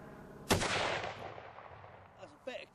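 A single loud rifle shot at an outdoor shooting range, sharp crack followed by a long decaying echo, with brief quieter sounds afterward.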